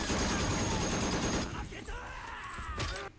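Bursts of machine gun fire from a TV war series set in the Pacific are loud at first, then fade into scattered shots and rumble while voices react over them.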